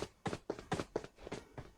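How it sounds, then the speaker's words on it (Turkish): Footsteps of a running character in PUBG Mobile on the Miramar map, seven quick regular steps close by at a steady pace, each a crisp thud, with no talking. "Ayak sesleri."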